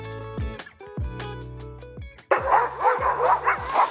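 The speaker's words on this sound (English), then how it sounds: "I'm sure you can hear the dogs in the background" Husky sled dogs barking and yipping in pitch darkness around 6 a.m. before a dog sledding trip, repeated loud barks close by at first, then a denser chorus of excited yelps and whines from the pack.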